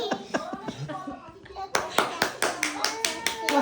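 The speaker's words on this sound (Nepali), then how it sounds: "ताली" Hands clapping at a family birthday celebration for a mother, a quick run of sharp, close claps that grows louder and steadier in the second half, mixed with a voice and other people talking.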